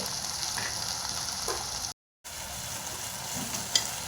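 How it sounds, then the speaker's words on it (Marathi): Onions sauté in a pan with a steady, close crackling sizzle, broken by a brief silent gap partway through before the frying hiss resumes. "बघा कांदे परतले"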